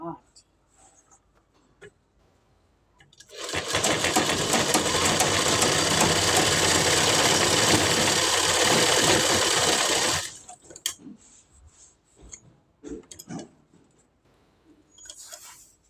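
An electric sewing machine runs fine, small stitches on a farshi salwar, a loud steady whir lasting about seven seconds, framed by quieter handling sounds and brief talk before and after.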